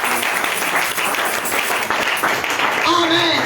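A church congregation at a Sunday service cheers and applauds Jesus Christ, with steady dense clapping and voices filling the room throughout, rising slightly near the end.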